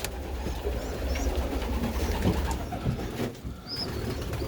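Pigeons cooing inside a loft, soft low murmuring calls spread through a continuous background hum, with a few faint high chirps near the end.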